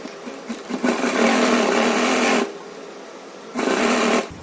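A sewing machine stitches a pocket onto pajamas in two loud, steady runs, one long and one short, with a brief pause between them.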